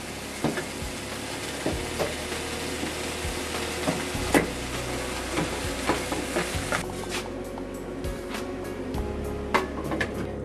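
Spinach cooks in a pan for lasagna, a steady soft sizzle with occasional scraping stirs and light clicks of a utensil, close and moderately quiet.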